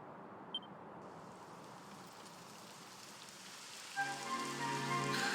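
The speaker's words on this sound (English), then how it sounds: "It would have to go and start raining, wouldn't it?" Rain falls steadily in the Dragon Quest XI S video game, a soft hiss of drops that swells louder near the end as synthetic tones join in.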